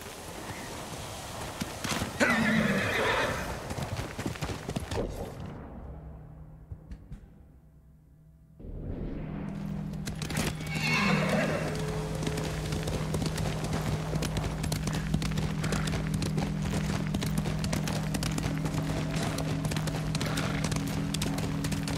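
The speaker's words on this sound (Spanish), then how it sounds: "¡Caballo!" A horse in the video game Ghost of Tsushima clip-clops steadily along, with hoof beats louder at first, a brief near-silent gap midway, then a continuous galloping rhythm over a low hum and game ambience.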